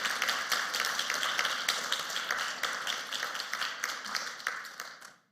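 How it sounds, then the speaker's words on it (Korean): A church congregation applauds during a sermon, a dense wash of many hands clapping steadily at close range for several seconds before cutting off abruptly. "박수 한번 드리세요"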